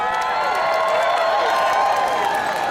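Crowd noise fills a sumo exhibition at an anime convention, a dense, loud, continuous roar of cheering and applause.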